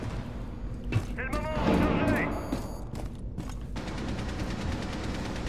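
Gunfire in the Rainbow Six Siege video game: several loud, sharp shot bursts scattered through the clip over a constant game background, with someone talking over part of it.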